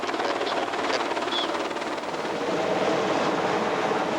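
A Coast Guard helicopter hovers during a cold-water rescue lift, making a dense, steady rotor and engine roar that stays loud and close throughout.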